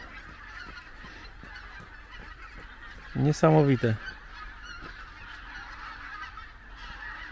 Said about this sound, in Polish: stada tych dzikich gęsi już od kilku minut tak lecą